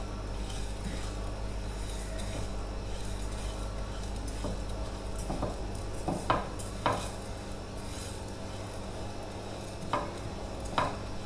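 Sugar caramelizing in a dry pan is stirred steadily, with soft scraping and a few sharp clinks of the utensil against the pan over a constant background hiss.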